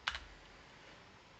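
A brief cluster of two or three quick computer keyboard key clicks while code is being typed, close and crisp, then fading into quiet room noise.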